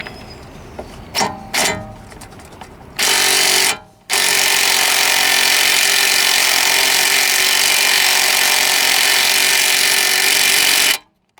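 A power tool runs on rusted 19mm hub bolts of a Honda Jazz being repaired for a broken driveshaft, with short bursts early, then a long loud sustained whir that cuts off near the end.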